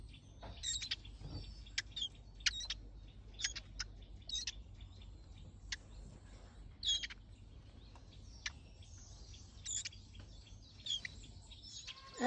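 A recording of their own species' song is played to young birds, giving faint, scattered chirps and short tweets with quiet gaps between them, against a low hum.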